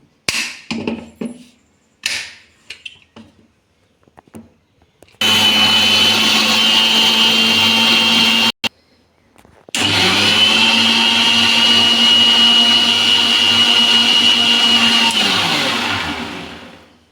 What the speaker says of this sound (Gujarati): હવે હું એ ચોખા હતા એની અંદર ધાણા અને ફુદીનો બંને નાખી અને આપણે ફરી એને પીસી લઈશું.